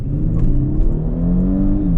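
A 2020 Genesis G90 sedan pulls hard at full throttle, its engine note rising steadily in a loud, continuous in-cabin drone with no talk.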